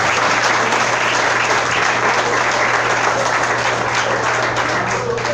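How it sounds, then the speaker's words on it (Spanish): A church congregation at a Spanish-language service claps loudly and steadily throughout, a thick, even wash of applause with a low hum beneath it. "Dele un fuerte aplauso al Señor"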